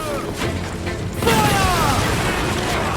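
Ship cannons fire in an Assassin's Creed Black Flag naval battle: a heavy boom breaks in about a second in, then sustained loud rumbling battle noise follows, with faint shouting voices.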